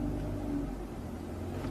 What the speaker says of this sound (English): The engine is going,